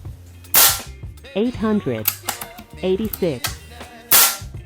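FX Wildcat Compact .22 caliber air rifle fires two sharp, loud shots, one near the start and one near the end, with a man reading a number aloud between them.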